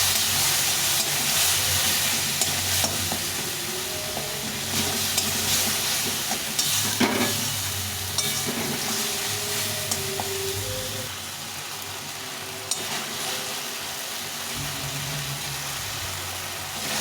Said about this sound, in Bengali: এখন এই যে মশলাটা গুলে রেখেছিলাম ওই মশলাটা দিয়ে দেবো দিয়ে এটাকে ভালোভাবে ভেজে নেব